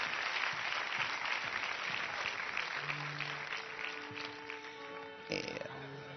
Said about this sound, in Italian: un applauso a Adriana, ma non è facile.